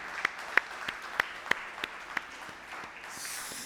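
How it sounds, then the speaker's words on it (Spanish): A church audience applauding the mothers, heard as a sparse, faint patter of separate claps spaced out irregularly, thinning toward the end. "Denle un aplauso a las mamás."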